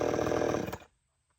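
A loud, buzzing chainsaw engine idles roughly, then sputters and dies out, leaving near silence.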